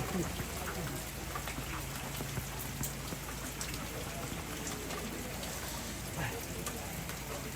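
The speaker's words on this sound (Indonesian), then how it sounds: "Dingin sekali hujan." Steady rain falls at night at a tongkonan in Batukianak during a family memorial service, a dense continuous patter with scattered droplet hits and faint voices in the background.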